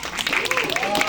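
Gala audience applause, a dense patter of many hands clapping through the whole short stretch, close and steady, with a voice speaking over it.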